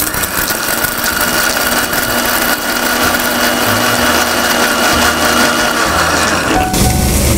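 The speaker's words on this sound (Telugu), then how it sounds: "దీన్ని మిక్సీ పట్టుకుందాం." A kitchen mixer grinder whirs loudly and steadily while grinding spice powder with coconut, its motor whine holding an even, close drone that shifts pitch near the end as the load changes.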